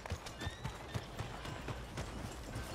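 In a Western video game, a horse walks along a town street with steady, even clip-clop hoofbeats at moderate distance over a faint ambient background.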